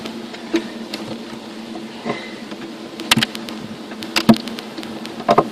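Honey bees covering the frames of a horizontal hive hum steadily up close, with a low buzzing drone and scattered sharper clicks and taps over it.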